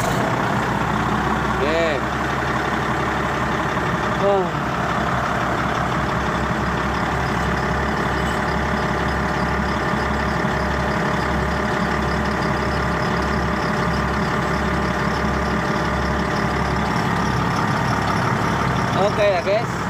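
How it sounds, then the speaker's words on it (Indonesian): Heavy diesel truck engine running steadily after a fuel filter service, a constant low rumble throughout with a few brief revs, while people talk nearby under the engine noise. "Gas kita tekan agar jangan terlalu galak."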